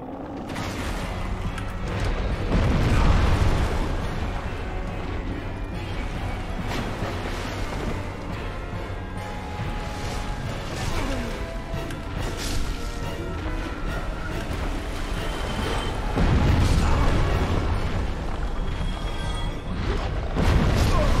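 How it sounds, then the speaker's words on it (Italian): Heavy booming crashes and thuds ring out with each weapon strike in Dark Souls Remastered, a dense, loud run of impacts that continues through the whole stretch, with swells of extra force near the start and again toward the end. "esplosioni atomiche ogni colpo"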